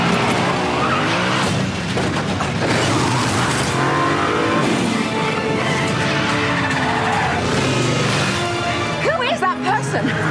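A car drifts one-handed through the streets of Rome in a Mission Impossible Dead Reckoning chase, with loud sustained tire squeal and engine roar, music and voices layered over it, ending in sharp squealing skids.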